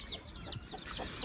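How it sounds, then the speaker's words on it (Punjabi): Chickens cluck close by in quick, faint, repeated calls as they are let out of their coop on a farm. "ਸਭ ਤੋਂ ਪਹਿਲੇ ਜਿਹੜਾ ਆਪਾਂ ਮੁਰਗੀਆਂ ਛੱਡੀਏ"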